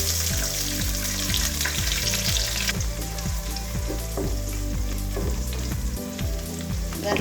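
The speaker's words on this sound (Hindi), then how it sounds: "गार्लिक को थोड़ा यहाँ मैं भून लूँगी।" Chopped garlic fries in hot oil in a pan, giving a loud, dense, continuous sizzle with crackling and occasional stirring scrapes throughout, no voices present.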